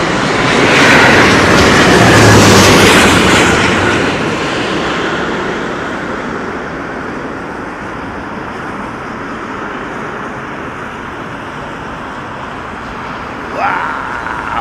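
A jet aircraft lands at a windy Heathrow, its broad engine roar swelling loudly then fading into a long steady rumble with gusting wind noise, a brief sharper sound near the end.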